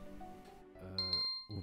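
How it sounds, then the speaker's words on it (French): A household alarm goes off to signal that laundry set out to dry is ready, giving a clear high repeated ding over a short stretch, between and under bits of voice-like sound nearby. "la sonnerie en fait, c'est juste que je dois récupérer le vêtement qui était en train de sécher"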